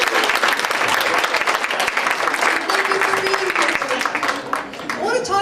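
Applause and cheering from a town hall audience at Pierce College greet Susan Shelley, a dense, loud wash of clapping that holds steady before thinning slightly at the end.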